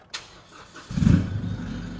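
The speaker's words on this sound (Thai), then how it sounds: "นี่ได้ยินเสียงเครื่องยนต์ไหมพี่อันนี้ทำท่อมานะคะ" An Isuzu D-Max 1.9 pickup fitted with a modified exhaust runs nearby, giving a short click followed by a low, throaty engine rumble that swells and holds steady.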